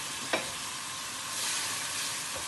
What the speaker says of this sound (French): Faire un petit peu revenir le sucre.